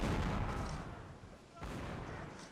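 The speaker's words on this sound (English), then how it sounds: "And the cannons begin firing." Cannons fire on a battlefield in the Napoleonic-era game Mount & Blade: Napoleonic Wars during a Crimean War event, two heavy booming blasts with rolling low rumble, the second arriving after a brief lull, loud and close.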